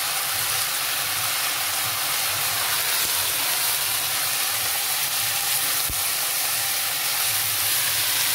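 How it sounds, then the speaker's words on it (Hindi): Chicken frying in a pan with ginger garlic paste makes a continuous, even sizzle and hiss, moderately loud, with no talk. "Fry with chicken for 2 minute. तो हम फ्राई करते हैं।"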